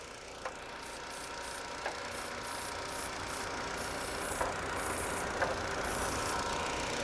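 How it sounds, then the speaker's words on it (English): A 1999 Ford Fiesta engine idling, a quiet, even mechanical hum with a faint, soft tick or knock recurring every second or so, and no speech. "I'm listening to the engine changing."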